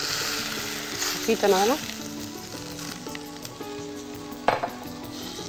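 A seafood sauce for grouper with carabineros sizzles softly in a pan, a steady low crackle running throughout, with a few clinks and a brief stir while someone speaks Spanish over it.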